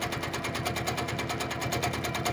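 A sewing machine stitches steadily during free-motion quilting of a cat's eye design, a fast even needle rhythm running close and continuous with no pauses or talking.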